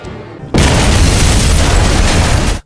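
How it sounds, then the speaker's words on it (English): A hand grenade blasts in a zombie film scene: one loud, sustained explosive roar that erupts suddenly and holds for about two seconds before cutting off, with no voices. "After several unsuccessful attempts by Andy, Terry directly retrieved a hand grenade and placed it in Mickey's mouth."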